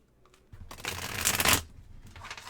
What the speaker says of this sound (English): Let's shuffle our deck first.